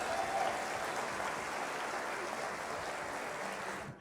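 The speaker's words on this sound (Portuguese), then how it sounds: "Então eu gostaria de pedir uma salva de palmas para o nosso reitor," Audience applause for a university rector at a Black Consciousness event, a fairly faint, even patter of many hands clapping that holds steady and then fades out at the end.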